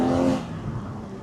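A Porsche 981 GT4 with a 3.8-liter engine revs hard and loud up close, then the pitch drops away as the throttle eases off over about a second.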